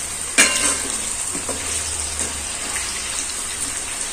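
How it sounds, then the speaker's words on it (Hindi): Raw potato pieces frying in hot oil for sabudana khichdi give a steady close sizzle with a short stirring clatter near the start, and no voices. "असा कच्चा बटाटा तेलात लवकर फ्राय होतो।"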